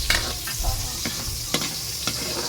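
Garlic frying in a pan makes a close, constant sizzle, broken by a few sharp scrapes and taps of a spatula over a couple of seconds.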